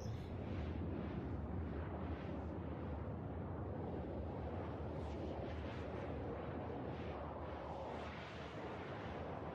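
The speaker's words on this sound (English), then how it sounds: "Yeah, I really do like the fireworks." Fireworks in the Star Citizen video game: a steady, distant roar of booms and crackle that rumbles continuously without a break, with no talking over it.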